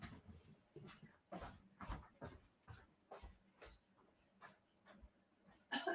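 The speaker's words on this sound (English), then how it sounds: "That dog, I'm telling you, sometimes she's so needy." A needy female dog whimpers and shuffles nearby, soft intermittent whines and faint movement sounds spread across several seconds, quiet overall with a sharper noise at the end.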